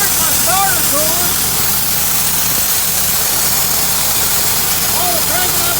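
A small pull-start engine idles with a steady, even drone that holds constant throughout, while a voice speaks over it.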